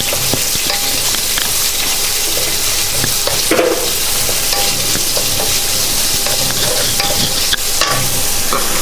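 Chopped onion and two green chillies sautéing in hot oil in a pan for a Mangalorean breakfast dish, giving a steady, loud broadband sizzle throughout with occasional stirring clinks and scrapes.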